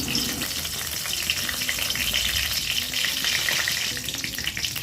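Black cardamom, a bay leaf and dried chillies sizzle in hot oil in a kadai for a Punjabi-style rajma, making a loud, continuous crackling hiss with no voices.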